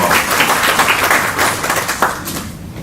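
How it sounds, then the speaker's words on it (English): A roomful of guests at a political meet-and-greet dinner gives the chefs a round of applause, loud close clapping from many hands that thins out toward the end. "So another round of applause for the wonderful chefs tonight."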